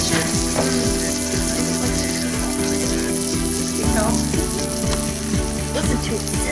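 Loud, continuous crackling sizzle of a gluten-free pizza cooking, steady throughout with small pops.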